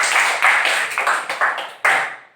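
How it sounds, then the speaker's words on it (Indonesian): Short burst of classroom clapping for a student, a few overlapping bright claps in quick uneven bursts that fade after about two seconds, nearby and loud. "kita beri tepuk tangan untuk Cindy."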